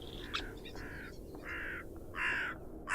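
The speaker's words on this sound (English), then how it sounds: "I hear a bird. I hear it. It's a hooded crow." Hooded crow cawing in a bird-watching video game, several harsh caws in a short series, fairly close and clear over a soft low ambient hum.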